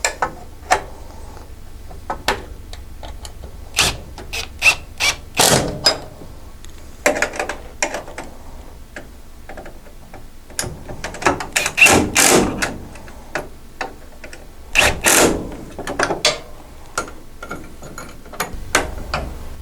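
Phillips P3 bit and 7/16 wrench tightening nuts and bolts while installing ArmorTech doors on a Honda Pioneer 1000, heard as scattered sharp ratcheting clicks and metallic ticks in irregular bursts, close and fairly clear without talk.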